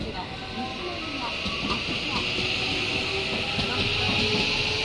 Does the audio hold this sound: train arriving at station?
yes